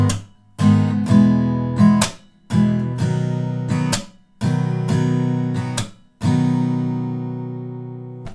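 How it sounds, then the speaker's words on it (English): An acoustic guitar strummed in a down, up, slap, down pattern, repeated through several chord changes with sharp percussive slaps between ringing strums, close and alone before a final sustained chord. "the strumming pattern is just down, up, slap, down"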